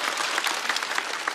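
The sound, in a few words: audience applause for a comedian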